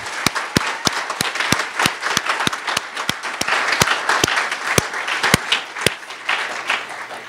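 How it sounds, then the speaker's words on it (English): An audience at an academic event applauds a research institute. Sharp, rhythmic claps ring out over a steady bed of crowd clapping and stay lively and close for several seconds. "we should begin with a round of applause for the Institute"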